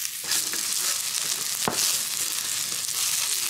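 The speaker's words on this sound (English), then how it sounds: "Give the onion a little bit of a turn." Onion and garlic fry in a hot pan over a campfire, a steady loud sizzle running throughout with a brief stir or scrape of the pan partway through.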